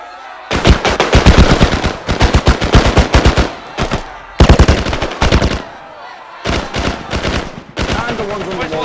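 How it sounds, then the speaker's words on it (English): Rapid machine gun fire in a military shooter game, bursting loud and close in several long rattling volleys separated by brief pauses, with voices briefly heard between bursts. "Open fire!"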